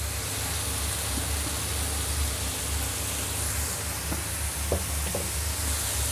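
Mustard greens and spring onion stir-fried in a pan for a tofu and shrimp dish, a steady soft sizzle with faint scraping stirs over continuous low hiss, no talking.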